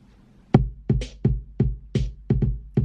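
A short 3+3+2 kick-and-snare drum pattern thumps through quick repeating hits, with airy layered vocal sounds faintly blended over some beats.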